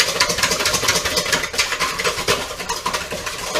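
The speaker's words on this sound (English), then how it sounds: "I'm gonna take my whisk here and whisk this real good" A whisk beats a sugar and yeast mixture for Italian bread dough in a bowl, fast repeated rhythmic clicking and swishing strokes, close and fairly loud, with no talk.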